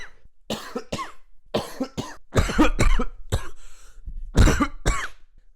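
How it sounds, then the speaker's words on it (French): A series of harsh coughs and throat clearings, some single, some in quick bursts, loud and close, with brief pauses between them. "petite compilation de toutes les prises où j'ai dû m'arrêter parce que je toussais"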